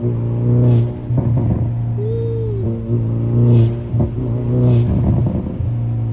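A Hyundai Veloster N's engine drones loudly and steadily from inside the car, with a short turbo blow-off whistle partway through and several brief throttle swells.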